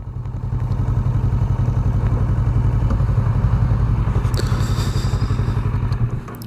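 A 2018 Kawasaki Versys 650 motorcycle idles close by, its engine a loud, steady low thrum with a fast, even pulsing beat that holds for the whole stretch.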